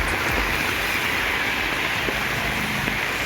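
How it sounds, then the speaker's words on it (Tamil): Heavy rain falls in Kanyakumari district, Tamil Nadu, near the Western Ghats, as a dense, steady hiss that stays loud and constant throughout with no talking. "மேற்கு தொடர்ச்சி மலையை ஒட்டிய பகுதிகளில் கனமழை பெய்தது"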